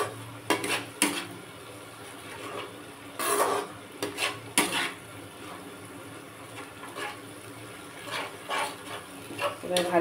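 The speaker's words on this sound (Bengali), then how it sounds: "এবার ভালো করে নাড়াচাড়া করে নিয়ে এটা একটুখানি মশলাটা এর সাথে মিশে যাক" A spoon stirs spices into jackfruit curry in a pan, with scattered scraping knocks and clatters over a faint low sizzle, close but fairly quiet.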